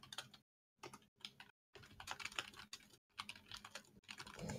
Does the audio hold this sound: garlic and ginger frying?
no